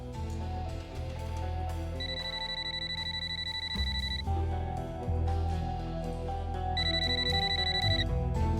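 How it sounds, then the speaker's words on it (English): A telephone rings in two electronic bursts, each lasting a second or two, over a steady background music bed, with no voices. "Kim agrees to let them record her next phone call with Charlie."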